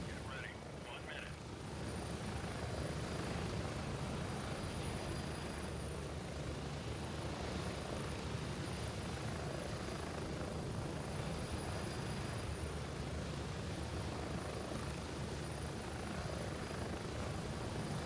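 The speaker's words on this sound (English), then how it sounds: "It's gonna be loud on this chopper because I don't have a headset" A military helicopter in the video game Gray Zone Warfare flies with a loud, steady rotor and engine roar heard from inside the cabin, constant and close throughout with no headset to dampen it.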